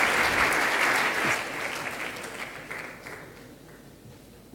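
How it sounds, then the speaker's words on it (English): Audience applause at the Santander International Banking Conference 2018, loud steady clapping from a hall crowd that gradually thins and fades over several seconds. "I would like to thank all the speakers and to give them a big hand of applause"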